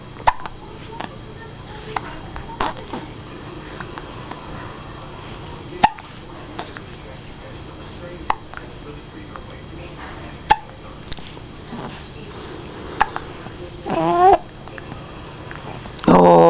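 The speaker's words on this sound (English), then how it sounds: "Them hiccups make the baby mad." A baby hiccups repeatedly in short, sharp, irregularly spaced bursts, close and fairly quiet, with fussing and an adult voice near the end.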